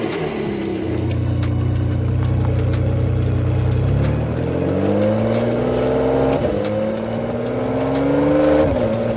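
A 612-horsepower Ferrari 599 GTB Fiorano drives through city streets, its V12 engine droning loudly from inside, then climbing in pitch through gear changes and rising revs with no talking.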